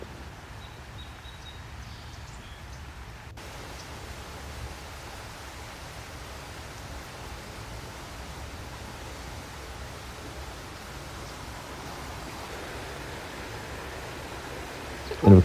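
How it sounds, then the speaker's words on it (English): Arroyo Seco stream and small waterfall in Angeles National Forest flowing steadily, a continuous broadband rush of water heard close by with no break, ending in a brief louder bump at the very end. "you get these nice, relaxing sounds of the Arroyo Seco"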